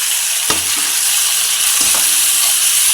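Tomato, cucumber and green chilli curry being stirred in a hot pan, a steady sizzle throughout with two distinct scraping stirs of the spoon against the pan, close and alone.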